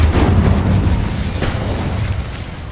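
A Confringo explosion spell goes off in Hogwarts Legacy, a loud, dense booming blast with low rumble sustained across the whole stretch, fading slightly toward the end.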